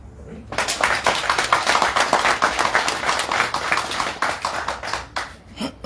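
An audience at a Gabonese ceremony applauds for M. Jobé, a brisk, sustained round of clapping that starts abruptly and holds steady for several seconds, with speech heard underneath.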